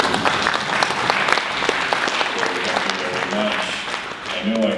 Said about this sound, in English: I think they deserve a round of applause for helping